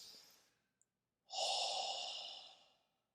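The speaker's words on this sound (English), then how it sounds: "Deep breath, inhale. Exhale." A single slow, deep breath during a martial arts class warm-up: a soft inhale followed by a longer, louder exhale close to the microphone, with no talking.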